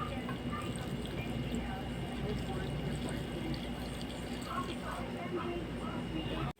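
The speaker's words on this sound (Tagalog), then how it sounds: "Lalagyan natin ng tubig." Water pours steadily from close by into a pot of suman sa lihiya wrapped in leaves, a continuous splashing fill that runs for several seconds before cutting off abruptly.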